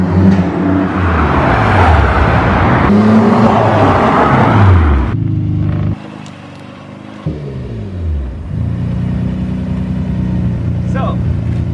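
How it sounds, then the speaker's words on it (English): A 1995 Nissan GT-R R33 in Midnight Purple drives past nearby, its engine a steady loud drone with rising and falling pitch sweeps as it accelerates, dropping briefly quieter before the engine note returns. "let's continue enjoying the performance of this GTR 33 Midnight Purple"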